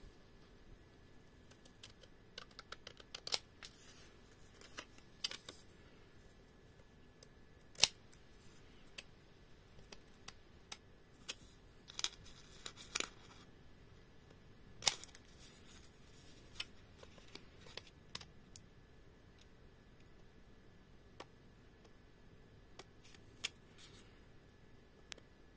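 Scissors snip through paper while a pop-up card is made, giving faint, sparse clicks and cuts spread out over a quiet room with long gaps between strokes.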